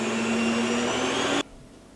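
An electric mixer running at high speed while churning cream into butter, a steady loud whirring drone with a constant pitch that cuts off abruptly near the end, leaving near silence.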